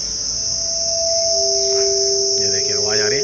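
Crickets drone steadily at midday, around 1 pm, at a deserted ruined palace, Bhuli Bhatiyari ka Mahal. The high, continuous insect buzz fills the whole stretch, with a brief, faint chirping toward the end.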